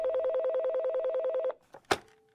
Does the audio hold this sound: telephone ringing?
yes